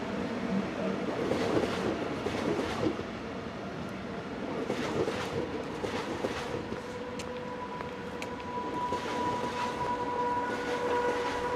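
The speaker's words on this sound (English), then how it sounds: "Our final scene from Aarau is of this Class AE66 locomotive, about to pause in the station with an eastbound freight service bound for Zurich" A Class Ae 6/6 electric locomotive hauls an eastbound freight train into Aarau station with a steady rolling rumble and wheel noise, a brief brake squeal and a thin, sustained screech coming through near the end.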